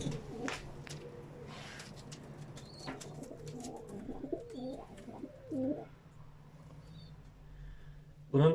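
A dappled female pigeon raising a single chick gives soft, low cooing calls in a loft, rolling coos repeating over several seconds at a moderate distance with faint background noise.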